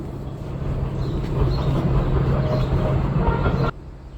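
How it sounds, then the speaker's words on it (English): An older metro train passes through New Carrollton station, a steady loud low rumble and rolling roar holding close for several seconds before cutting off abruptly into quieter ambience. "there goes the metro train, the old one"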